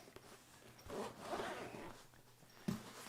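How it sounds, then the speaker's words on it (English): Zipper on a violin case being pulled open, a long scratchy zip running about two seconds at close range, followed by a sharp click near the end; no talking. "So we'll unzip it."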